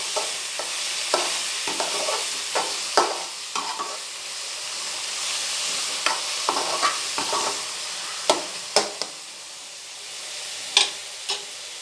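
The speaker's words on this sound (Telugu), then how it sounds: "వీటన్నిటిని మళ్ళీ బాగా ఒకసారి కలిసేలా మీరు కొంచెం తిప్పేసేయండి" Pasta with turmeric and garam masala is stirred and fried in a pan. A soft, steady sizzle runs underneath irregular scraping and clacking strokes of a spoon against the pan.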